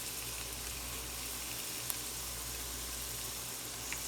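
Steady broadband sizzling of seitan dry frying in a hot pan, a constant hiss with no voices.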